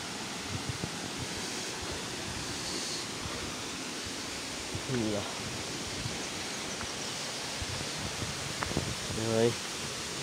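A waterfall of cold water near Shantipur in Gulmi, toward Arjewa, roars as a steady, even rush of noise, with brief faint voices breaking through now and then.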